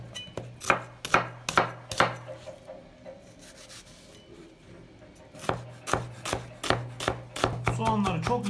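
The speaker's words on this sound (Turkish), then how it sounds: "Soğanları çok ince olacak şekilde doğramanız gerekecek." A kitchen knife finely chops onions on a board while preparing şeftali kebabı, with bursts of quick, crisp knocks and scraping, a brief quieter stretch midway, then rapid chopping again, close and clear without speech.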